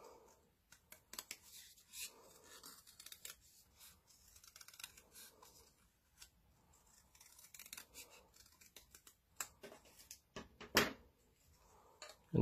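Scissors snipping through folded paper to cut out a heart shape, close crisp cuts and soft rustling in an irregular rhythm, with a sharper snip near the end and no speech.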